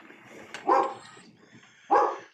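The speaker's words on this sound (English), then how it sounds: "you probably know that's Chewy, our studio dog." A studio dog gives two sharp barks about a second apart, moderately close and loud against a quiet room.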